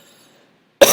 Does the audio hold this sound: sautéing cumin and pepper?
no